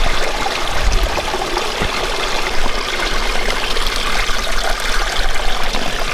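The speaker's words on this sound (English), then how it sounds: "But this is where I'm getting water." A small stream trickles and gurgles steadily at close range at a water source on an archery elk hunt, with a constant hiss of flowing water and no talk.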